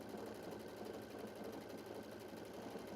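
A Baby Lock Radiance sewing machine running steadily as it finishes a tie-off stitch, a continuous rapid mechanical whir and needle chatter, fairly quiet and close, with no talking.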